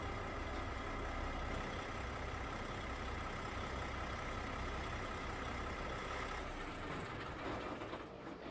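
A Freightliner Cascadia truck engine idles in American Truck Simulator, a dense, steady diesel drone holding at a constant level throughout and easing slightly near the end.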